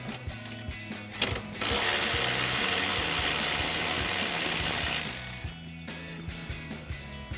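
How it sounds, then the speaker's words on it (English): A hand ratchet with a 10mm socket and extension loosening a nut on the air box of a 2019-2022 V8 Silverado or Sierra 1500: rapid close clicking of the pawl, with a steady mechanical hiss in the middle stretch. "So we'll grab our 10mm socket and extension on our ratchet, and go ahead and pop that off."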